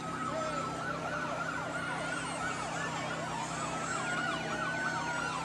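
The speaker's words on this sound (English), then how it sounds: "You can hear the sirens, and I think we know what that means as we hear the sirens coming down the road." Emergency vehicle sirens coming down the road at a 1992 Columbus Day parade, several overlapping wailing tones rising and falling continuously, heard at a moderate distance.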